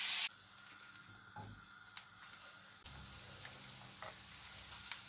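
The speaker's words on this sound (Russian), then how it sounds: "Сейчас я его притомлю в сливочном масле." Sliced onion sizzles softly in butter in a frying pan, a faint, steady frying hiss with a brief clatter at the start and occasional light taps of stirring.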